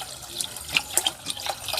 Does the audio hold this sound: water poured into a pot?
yes